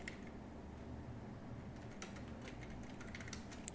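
Quiet typing on a computer keyboard at a PC, soft scattered key clicks over a low steady background hum, with no talking.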